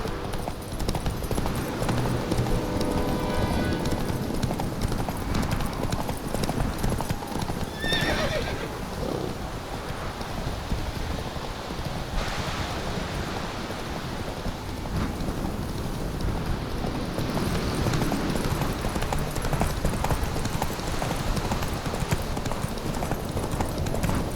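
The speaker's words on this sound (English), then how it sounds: "First to Kaer Morhen wins! Come on, Roach." A horse gallops steadily in The Witcher 3: Wild Hunt, with continuous hoofbeats, a whinny partway through and rain falling all around.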